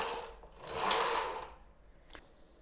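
Carriage of a Knittax knitting machine sliding across latch needles held in holding position, a soft rushing whir that rises and fades, followed by a faint click.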